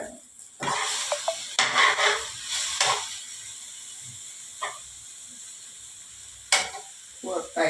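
Chicken stir-fried in a pan for Isan-style gaeng om, with bursts of sizzling and scraping from the spatula between quiet gaps and occasional short knocks, close and fairly loud.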